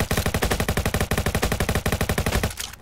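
Rapid automatic gunfire from the Roblox Jailbreak video game rattles out in one loud, unbroken burst of closely spaced shots for about two and a half seconds, then cuts off abruptly.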